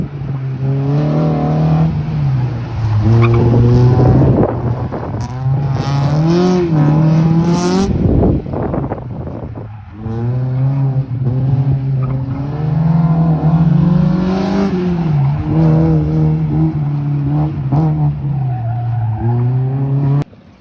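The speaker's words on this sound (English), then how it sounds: "Here comes Wade in his car." A Honda autocross car races through the course on a summer night, its engine note climbing and dropping through gear changes while tires squeal and skid continuously, loud and close for the whole run.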